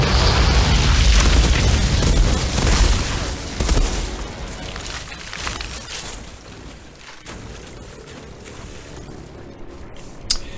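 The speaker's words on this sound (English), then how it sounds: "It's like everything I hit was exploding." Explosions and gunfire in the Outriders shooter game, a dense roaring wash of booms and bursts, loudest at the start and then settling into a rumbling, crackling background.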